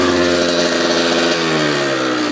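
A 2002 Kawasaki KX85 dirt bike engine revs while still cold, a loud, steady two-stroke drone with rising and falling harmonics, close by and unbroken by speech.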